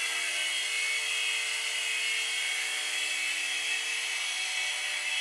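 A Litehawk mini 3-channel RC helicopter running, giving a steady, high-pitched electric motor and rotor whine that holds constant and close throughout, with no talking.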